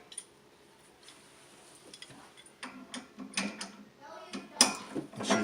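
Metal parts clinking and ratcheting as a Hoffman #7 steam radiator valve assembly is taken apart, scattered faint taps at first, then closer, louder clanks and rattles toward the end.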